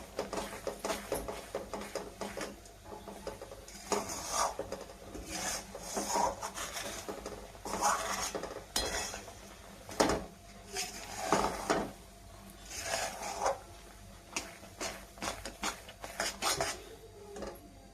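A peanut biscuit barfi mixture stirred in a pan on the stove, with repeated rasping scrapes of a spoon or spatula against the metal in an uneven, continuous rhythm, close and moderately loud, no talking.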